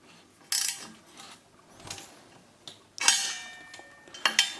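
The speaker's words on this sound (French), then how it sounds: "Moi j'ai pris une clé à cliquer de 8. Voilà, je dévisse les vis, là." A size 8 ratchet wrench loosening screws while fitting anti-limescale filter cartridges, giving several sharp metallic bursts of clicking and clanking with pauses between, close by and without talk.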